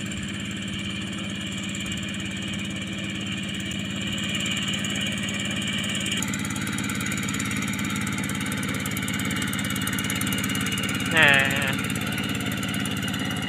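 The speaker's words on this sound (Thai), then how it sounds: "แบบนี้รถไถเล็กแบบนี้หาดูยากแล้วนะครับ" A small walk-behind tractor engine runs with a steady mid-pitched chugging drone, close and continuous, with a brief higher whine near the end.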